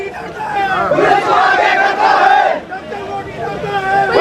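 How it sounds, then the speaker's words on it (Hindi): A crowd of NEET students protesting on a Delhi street chants slogans in loud, rhythmic unison, voices rising and falling in repeated phrases, dense and close throughout. "ये देखिए किस तरह से नारे लगा रहे हैं।"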